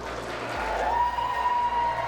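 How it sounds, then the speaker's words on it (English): Members in the House chamber applaud after a bill passes, a soft, diffuse wash of clapping heard at a distance that swells slightly and holds steady. "you can hear that applause in the chamber"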